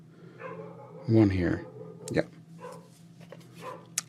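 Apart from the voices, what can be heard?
dog barking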